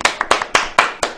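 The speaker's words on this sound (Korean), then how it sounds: "박수 한번 주실까요?" Hands clap in quick, sharp bursts, about five or six slaps in a little over a second, close and fairly loud with no talking over them.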